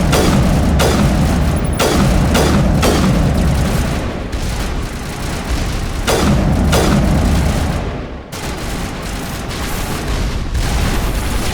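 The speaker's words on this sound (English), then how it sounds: "This sniper rifle." Sniper rifle fire in the video game Mass Effect, a string of loud booming shots at irregular intervals over a dense, rumbling battle soundscape, with a brief drop to near quiet partway through.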